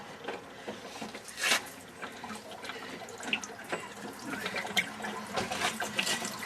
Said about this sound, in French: le chauffe-eau est en train de se vider